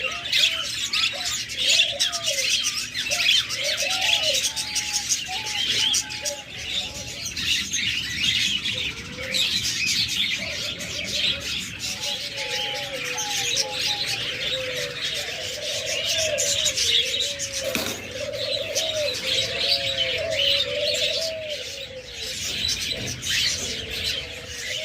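Budgerigars, cockatiels and lovebirds chatter and chirp continuously nearby, a busy mix of warbling calls, squawks and short tweets over a hissy background, with no talk.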